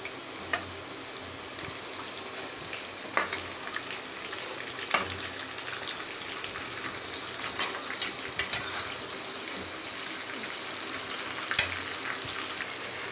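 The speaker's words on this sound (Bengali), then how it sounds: "মুরগি এই পেঁয়াজটা ভাজার সাথে একসাথে ভাজা নেব।" Chicken fries together with sliced onions and bay leaves in a pot, giving a soft continuous sizzle with scattered sharp clicks and taps from stirring, fairly quiet and without talking.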